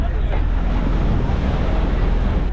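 Steady roar of ocean surf with wind buffeting the microphone, a constant loud wash of water with no pauses.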